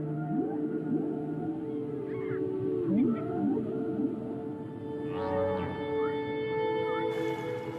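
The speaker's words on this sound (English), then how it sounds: "whales' mating songs are being heard from Canada to the Caribbean" Whale mating songs of long, sliding moans and swooping calls, with several overlapping, fill the stretch steadily, with some higher rising cries toward the end.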